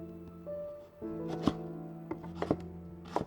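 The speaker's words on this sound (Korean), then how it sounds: "대파와 양파, 당근과 마늘, 생강을 썰어주고" Knife chopping green onion, onion, carrot, garlic and ginger on a board, a handful of crisp, irregular thunks over a quiet background with a steady hum.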